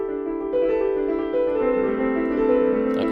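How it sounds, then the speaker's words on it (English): A solo piano passage from Ravel's Le Tombeau de Couperin, with smooth, sustained, resonant notes that shift in pitch and ring steadily at moderate loudness, and no voices. "one of Maurice Ravel's piano pieces"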